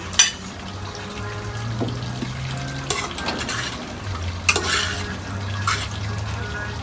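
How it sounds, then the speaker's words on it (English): Shredded carrot tumbles into a hot pan while Jamaican-style fish for bammy and fish cooks in Trinidad, giving a few soft, scattered pours over a steady low sizzle and hum, fairly close and moderately loud. "pour in our carrot."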